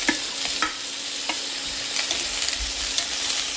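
Potato, drumstick, green chilli, garlic and onion sauté in hot oil for egg aviyal, a steady close sizzle with several sharp scrapes of a spoon stirring through the pan.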